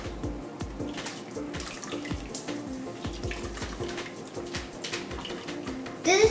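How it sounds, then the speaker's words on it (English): A soapy wool felt ball is rinsed and squeezed by hand in cool water, with repeated splashing, dripping and sloshing, close and fairly soft, ending in a louder splash. "We need to clean this off by putting it in cool water and bringing it up and squeezing it."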